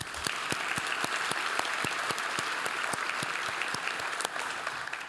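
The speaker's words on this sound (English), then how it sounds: "How about another round of applause for the presenters?" Audience at an energy summit applauds the presenters with steady, dense clapping that holds at an even level for several seconds, with no talking.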